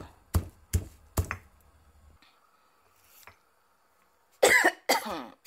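Someone coughs while pounding dry chili for plantain foufou: a few sharp pestle thuds come first, then a cluster of close, harsh coughs near the end.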